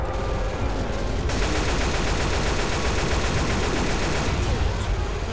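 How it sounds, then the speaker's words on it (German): Gunfire rattles in Left 4 Dead as a long, dense burst of rapid automatic shots, loud and close, running continuously without pause. "Musste gerade in die andere Richtung schießen."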